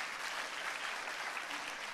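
Steady applause from a church congregation, a dense continuous patter of clapping hands with no voices over it.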